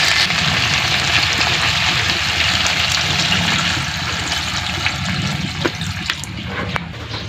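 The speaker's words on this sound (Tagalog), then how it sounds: "Kaya pwede nating lagyan ng tubig." Water poured into a pan of chicken heads and feet that are nearly fried, for tinola soup, makes a steady, loud broadband rush with sizzling crackle throughout, easing slightly toward the end, with no talking.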